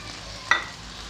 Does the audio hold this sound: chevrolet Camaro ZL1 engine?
no